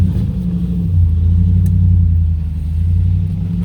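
A 1973 Range Rover Classic, UK-market Lincoln Green Suffix B, its engine rumbling and revving from inside the cabin while driving on a cool spring day, a low steady drone that swells and eases, still cold.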